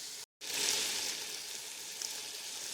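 Broccoli and one chopped red pepper stir-frying in a pan give a steady, close sizzle that runs throughout after a brief gap near the start.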